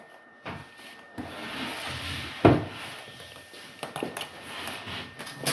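Insulation board being cut by hand while plastering a conservatory, giving a steady rough scraping and rasping that runs near and continuous, with one sharper knock partway through and a few short bumps toward the end.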